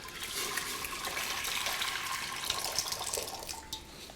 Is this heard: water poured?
yes